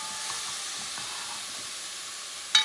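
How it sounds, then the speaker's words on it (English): Grated tomato sizzles steadily as it goes into hot sofrito in a pan for Puerto Rican asopao de pollo y cerdo, a constant close hiss of frying with a sharper crackle at the end. "I'm going to add a grated tomato."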